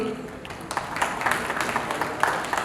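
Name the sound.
audience applause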